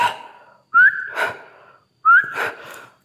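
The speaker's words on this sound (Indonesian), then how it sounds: "gue coba bersiul sebentar ya men" Two short whistled notes, each rising quickly then holding steady, close and clear, separated by a brief pause with faint breathy noise around them.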